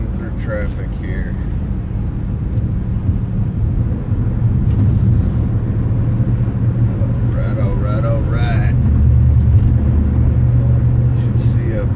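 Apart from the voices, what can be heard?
car driving through traffic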